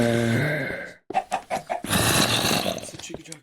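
A chicken jockey from a video game clucks in a few short, close bursts after a burst of music, with fowl-like calls spread across the clip.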